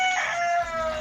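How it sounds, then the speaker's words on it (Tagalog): A rooster, likely a gamecock, crows at night, one loud, drawn-out, close call with a strained, harmonic tone lasting about a second. "Siguro panabong yun kasi tumitalaok ng gabi"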